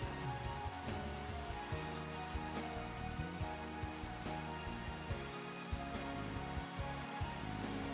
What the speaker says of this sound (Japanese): 雨降り出してるけど